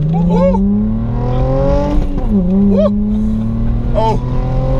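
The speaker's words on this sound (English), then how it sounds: "Boy, I'm gonna drop the clutch." A Mercedes C300 launches as the driver drops the clutch; the engine drones steadily, then its pitch climbs under excited voices and whoops from inside the car.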